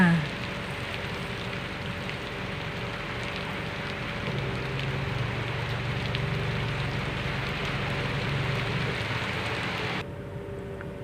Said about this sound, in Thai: ฝนตก ฝนตก ฝนตก